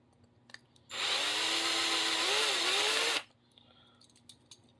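A power drill runs steadily for about two seconds while working on a wheel during a wheel swap on a BMW model, starting and stopping abruptly with a slight pitch dip near the end.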